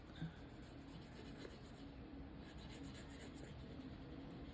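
A grooved slicker rubbed back and forth along a leather edge gives a steady, close, low rasping friction that continues throughout with no pauses and nothing else audible.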